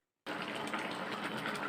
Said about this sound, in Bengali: দেখেন পরিমাণ মতো কিন্তু পানি দিয়ে দিলাম